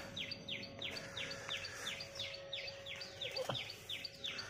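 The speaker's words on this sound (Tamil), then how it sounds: "இந்த குருவிகளோட சத்தம் அதெல்லாம் கேட்டுக்கிட்டு" Sparrows chirp in a rooftop vegetable garden during a morning harvest, a steady run of quick, bright, evenly spaced calls that carry on the whole time at moderate volume with no talking.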